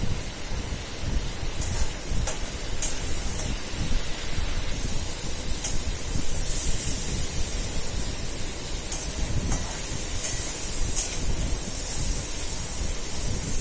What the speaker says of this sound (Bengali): টমেটোটা গলা অবধি মশলাটা কষাতে হবে ভালো করে।